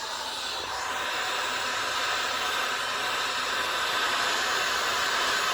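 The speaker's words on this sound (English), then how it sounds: "I'm using the heat gun to kind of shape these feathers" A heat gun blows hot air steadily to shape feathers on a fishing lure, a constant broadband roar and hiss held close and loud for the whole stretch without a break.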